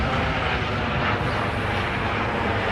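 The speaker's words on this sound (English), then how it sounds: "That's a Stars helicopter going over us," A STARS air ambulance helicopter passes overhead on a city street, a steady broadband rotor and engine roar that is loud and continuous, with no talk.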